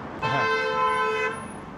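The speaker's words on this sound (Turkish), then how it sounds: "Kore'de de korna başladı. Artık millet kornaya basıyor." A steady car horn blares for about a second over low street noise in Korea, fairly close and loud.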